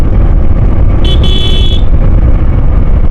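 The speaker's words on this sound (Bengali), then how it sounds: "কিন্তু এই রাস্তাতে প্রচুর জ্যাম।" Jammed road traffic with cars, motorcycles, bicycles and e-rickshaws, a loud, close engine rumble throughout and a sharp horn honk lasting under a second in the middle.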